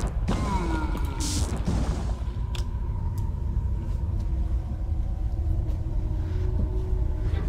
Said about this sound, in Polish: Uderzenie pioruna.